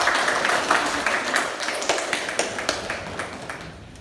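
Audience applause at a seminar on deforestation and preventing Jakarta from sinking, a dense wash of clapping that fades slowly to scattered individual claps over about four seconds.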